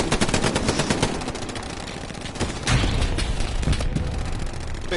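Sustained machine gun fire in rapid, continuous bursts, loud and close, with a heavier surge of shots midway and no pause in the shooting.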